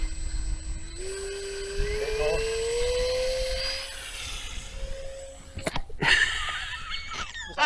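A Nicesky Hurricane A3 mini RC plane motor at launch in stabilised mode: a close electric whine climbs steadily in pitch, then cuts away amid a few knocks and wind noise.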